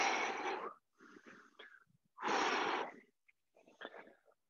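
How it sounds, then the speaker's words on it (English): Heavy, wheezy breaths come in rough bursts with short silent gaps after a round of burpees, close and fairly quiet, with no speech. "We're just trying to catch our breaths here"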